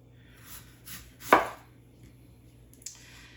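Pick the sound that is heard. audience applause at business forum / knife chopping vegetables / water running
knife chopping vegetables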